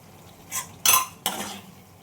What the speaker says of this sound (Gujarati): થોડું હલાવીએ આપણે.